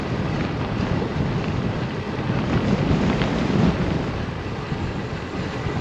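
Broad, steady wind rush buffets a microphone while cycling along Old Atascocita Road through pockets of mist, a continuous roar with gusts swelling near the middle and no talking.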